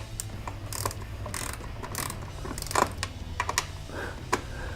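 Bolts being tightened on a Vulcan 750 motorcycle with a ratchet, giving irregular clicks and short mechanical clatter over a steady low hum, fairly close, with no speech.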